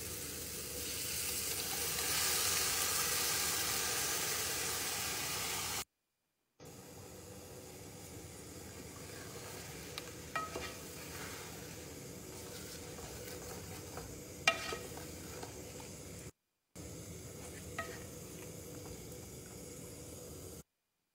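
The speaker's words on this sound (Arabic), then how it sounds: "الحين بحط اللحم مع التتبيلة." Meat coated in marinade sizzles steadily in a pot for lamb biryani, a dense continuous hiss with scattered small crackles and pops, broken by a couple of brief silent gaps.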